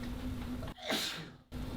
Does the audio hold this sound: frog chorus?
no